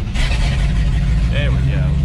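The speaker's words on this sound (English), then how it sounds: "turn the key on, push the button. And she'll almost run. One more time." A 1976 International Scout Traveler engine cranks and catches, with a steady low rumble throughout and someone speaking briefly over it near the end.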